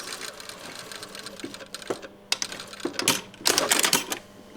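A sewing machine stitches across a shirt sleeve placket in short bursts of rapid mechanical whirring and clatter, pausing briefly for a pivot before running again, close and steady.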